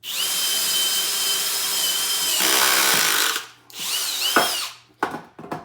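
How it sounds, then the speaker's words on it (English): A power drill whines loudly and steadily as it bores into the corners of a notch in wood for a planter stand, then stops and revs again in shorter bursts. "generally I just drill into the corners of where you've notched out."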